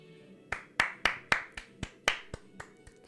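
Applause from a character ending scene in the video game Tales of Graces f Remastered: about nine sharp, separate claps in an uneven rhythm, fairly quiet, with no talk.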